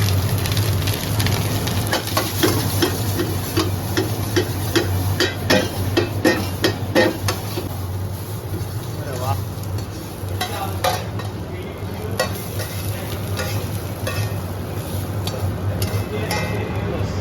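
Rice being stir-fried in a pan for Thai rice with Thai gravy at a busy night street-food stall, with continuous sizzling and rapid, rhythmic clanks of a metal spatula stirring, close and loud, over background crowd noise.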